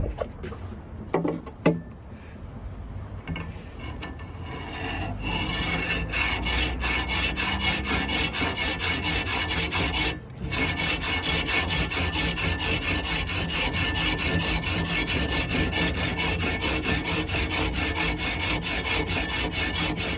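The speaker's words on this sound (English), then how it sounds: "So I'm going to go ahead and cut this piece of stone that I have in the adjustable vise here" A hand saw cuts steadily through a piece of pipe stone clamped in an adjustable vise, a close, loud, rhythmic back-and-forth rasp that runs almost without break. A few scrapes and handling knocks come before it, with one short pause midway.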